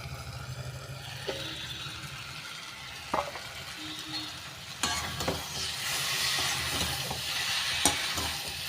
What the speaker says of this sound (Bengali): মশলাটা আশা করি ভাজা হয়ে গেছে